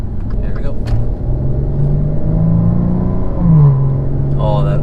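A 2017 Maserati Quattroporte accelerates with a loud, close engine drone that rises in pitch, drops briefly at an upshift and climbs again, with a voice talking over it.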